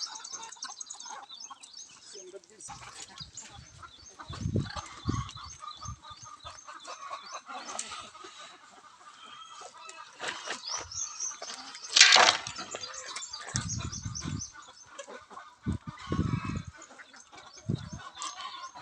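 Chickens on a poultry farm give scattered clucks and short calls, with a sharper squawk near the middle, against a quiet open-air background, with no one talking.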